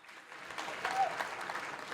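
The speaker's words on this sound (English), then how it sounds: "Congratulations and a big round of applause for the Junior Sportswoman of the Year" Audience applause at a sports awards ceremony, honouring the Junior Sportswoman of the Year; a steady, moderately loud wash of clapping that holds evenly throughout.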